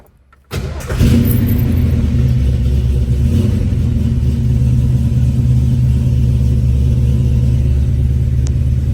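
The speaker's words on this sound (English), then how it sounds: "Do a cold start." 1970 Ford Mustang Fastback with a Hurst 4-speed making a cold start: a brief crank after a quiet moment, then the engine catches into a loud, steady, rumbling idle close by, with no talking.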